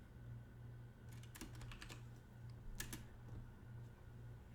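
Fingers tap on a computer keyboard while writing HTML, a soft scattered run of close keystrokes in small bursts over a low steady hum.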